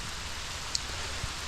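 Steady rain falls on a wet morning outdoors, a continuous hiss of drops on surfaces with a couple of faint isolated ticks, no voices.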